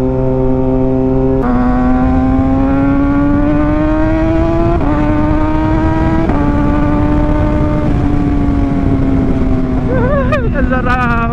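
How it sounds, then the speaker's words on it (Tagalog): A Side 6R motorcycle engine drones loudly and continuously while riding, its pitch climbing steadily through gear shifts with a few quick revs near the end and voices faintly underneath. "Gustong gusto ko talaga itong motor na to"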